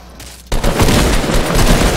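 Sudden burst of game gunfire in Fortnite on PC, starting abruptly and continuing as loud, dense rapid shots to the end, with no talk over it.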